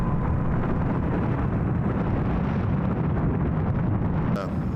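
Soviet rocket lifting off in a 1969 unmanned test launch, a loud continuous broadband roar with deep rumble that holds steady throughout, with faint talk beneath it.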